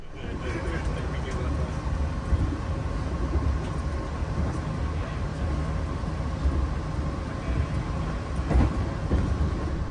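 Steady rumble and rattling inside a moving KA Progo New Generation economy-class train, a continuous low roar with faint track clicks and occasional louder knocks.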